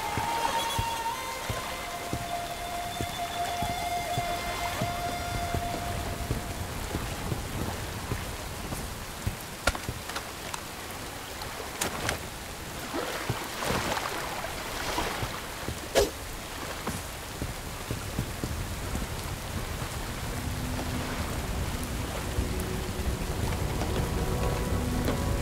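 Rain falls steadily in the video game Bright Memory Infinite, a dense continuous hiss with scattered louder drops and a few brief tonal game sounds, constant level for the whole stretch with no talk.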